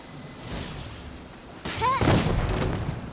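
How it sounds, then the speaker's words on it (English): Genshin Impact game audio with a sudden explosion that booms and crackles, loud and rumbling for over a second after a quieter stretch of background game sound. No speech. "The explosion was roughly the size I expected."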